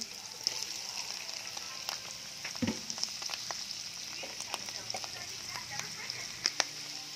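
Mushrooms fry in a pan with onions, giving a steady, bright sizzle with scattered crackles and pops, stirred occasionally, while a person talks over the cooking.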